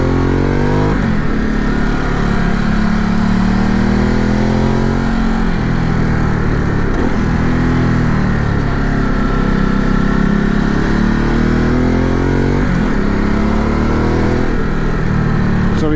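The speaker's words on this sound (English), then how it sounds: "Great bike for these kind of roads." A motorcycle engine rides along winding roads in Gran Canaria, a loud close drone that rises and falls as the rider accelerates and eases off through bends, with steady wind noise throughout.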